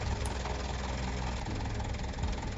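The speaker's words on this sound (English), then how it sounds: "A low, guttural drone. It rumbles through the cave like something alive" A continuous low engine drone rumbles steadily through a cave, dense and unchanging, with no voices.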